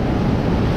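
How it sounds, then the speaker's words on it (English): Surf and frothy breaking waves at Black's Beach, California, a steady broad wash of churning water with wind buffeting the microphone, close and continuous for a brief moment. "I'm gonna dive into the froth of this frothy wave."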